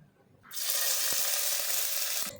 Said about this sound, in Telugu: కొంచెం కరివేపాకు వేస్తున్నాను